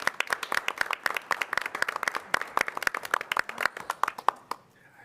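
Round of applause at a city council meeting in Iowa City, a small group clapping in brisk, distinct claps that thin out and stop at the end.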